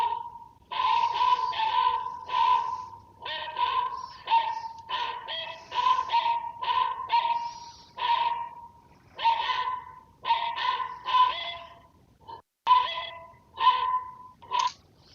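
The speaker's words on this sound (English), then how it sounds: "you can see the dog's already barking" A dog barks loudly and repeatedly at close range, sharp rapid barks in bursts with brief pauses, no talking.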